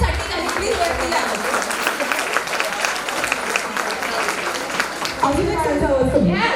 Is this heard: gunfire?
no